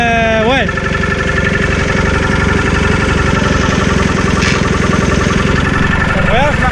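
A Massey Ferguson 821D tractor's Hanomag two-stroke diesel engine runs steadily and loudly up close, a dense, rhythmic clatter throughout with a brief pitch swell near the start and end.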